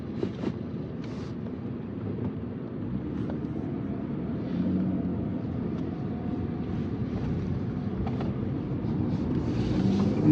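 Steady low engine rumble from a 2025 Ram pickup truck while driving, continuous and fairly even, with a slight swell toward the end and some wind noise over it.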